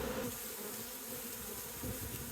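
Honey bees buzzing as they are moved into a hive, a dense steady hum close by with no other sounds.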